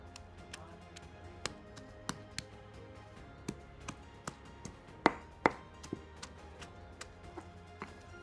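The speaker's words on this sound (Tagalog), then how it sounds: "After pounding, we are grinding to get this paste as smooth as possible" A pestle works Thai green curry paste in a mortar, giving faint, fairly regular knocks and taps with a couple of sharper hits, no speech.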